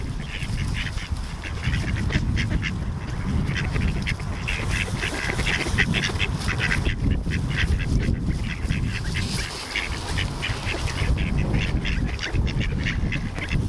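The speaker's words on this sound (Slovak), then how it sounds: "Dúfam, že sa ti páčili kačičky." A flock of ducks quacks continuously, their overlapping calls coming in repeated bursts, fairly close and steady throughout, with no talking.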